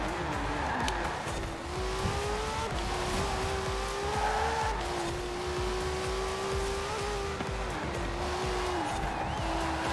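A Ford Transit Supervan racing in Forza Horizon 4, its engine droning steadily and rising and falling through gear changes, with tire squeal and skidding running alongside, close and loud throughout.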